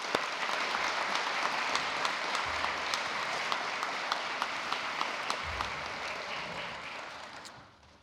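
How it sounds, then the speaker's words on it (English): Steady applause from an audience at a university provost's fall address, honoring the institution's leaders, an even wash of many hands clapping that holds for several seconds and then fades out. "Please give them a round of applause."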